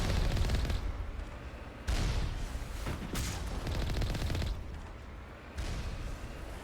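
Automated turrets in the Mass Effect game let loose sustained bursts of gunfire, dense rattling volleys that swell and drop in sections, loud and continuous with no talking over them.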